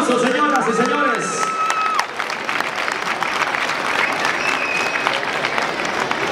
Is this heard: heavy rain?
no